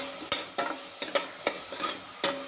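Instant amla pickle stirred in a pan over a low flame, with soft sizzling under a series of distinct scraping strokes of a spoon at an irregular pace, close and fairly quiet, with no voices.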